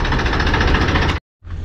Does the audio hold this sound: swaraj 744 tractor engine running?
yes